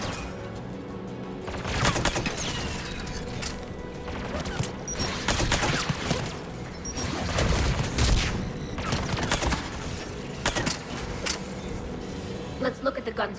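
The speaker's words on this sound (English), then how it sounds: "There! The guns protecting the tower!" Automated guns defending a tower in Mass Effect 3 fire in loud, repeated bursts and crashing volleys over several seconds, with voices speaking over the gunfire.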